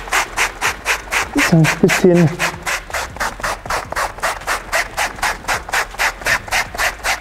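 Sandpaper scrubs over Carhartt work trousers in a steady, rhythmic back-and-forth rasp, close and loud, with a brief spoken remark partway through.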